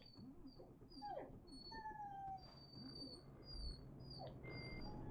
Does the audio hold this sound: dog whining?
yes